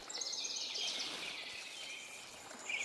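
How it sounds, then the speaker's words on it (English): A creature's chirping in Metal Gear Solid, thin high trilling calls that repeat in quick runs over a soft ambient background, fairly faint and steady, with no voices. "The Karatan chirping"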